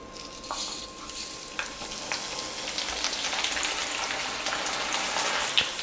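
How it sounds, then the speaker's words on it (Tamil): Flattened rice (aval) frying in hot oil as a Tamil snack, a steady dense sizzle with scattered crackles and occasional stirring scrapes, close and fairly loud throughout, no voices. "சும்மா ஒரு 30 செகண்ட் போட்டாலே போதும். அவல் வந்து நல்லா வறுபட்டு வந்துடும்."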